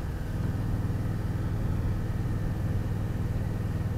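A Honda Rebel motorcycle engine hums steadily while riding in first gear, a continuous low rumble with wind noise and no break in level.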